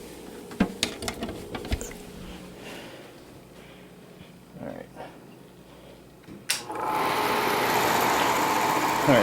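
A Bell and Howell 255A Autoload 8mm projector, whose motor drives two cooling fans, starts after some fumbling and clicks. It settles into a loud, steady whirring drone that continues to the end.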